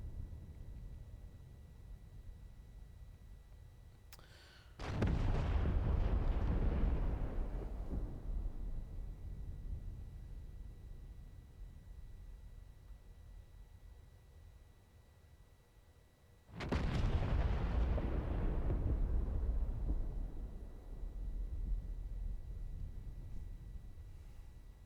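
Artillery fire in DCS World, two loud distant booms spaced about twelve seconds apart, each rolling out into a long rumbling decay over quiet background.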